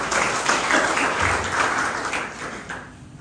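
A church congregation applauds during a sermon, many hands clapping in a dense burst that gradually tapers off toward the end.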